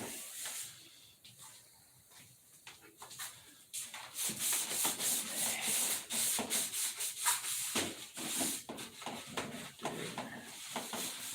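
Sanding and rubbing down a painted surface: steady, close scraping strokes that grow louder and more rapid partway through, with no voices.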